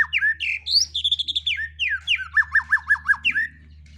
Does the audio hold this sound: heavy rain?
no